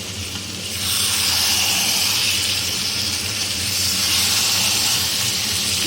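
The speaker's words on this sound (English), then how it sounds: "See the sizzling sound, you can see that, hear it." Continuous hissing sizzle of paneer frying in a non-stick pan, a broad steady crackle that swells slightly and holds, close up with no voices.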